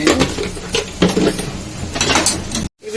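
Food fries in a pan while a spoon stirs it, giving close, busy clatter and scraping against the metal that runs steadily, then cuts off abruptly near the end.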